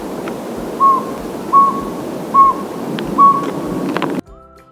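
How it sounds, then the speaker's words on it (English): Four short, clear hoots of a northern pygmy owl spaced evenly about a second apart, sounding over a steady background of insect and ambient noise, then cut off abruptly. "Northern pygmy owl."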